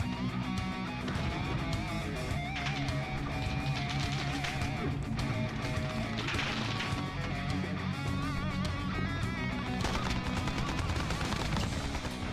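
Gunfire in the strategy game XCOM: UFO Defense, repeated shots and bursts blended into a dense, steady mix of game music and effects that runs unbroken from start to finish.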